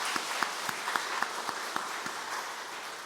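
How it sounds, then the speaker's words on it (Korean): Church congregation applauding during a dawn prayer meeting, a steady wash of clapping with a few sharper individual claps standing out near the start, moderately distant and fading slightly toward the end. "격려의 박수 한번 더 합니다"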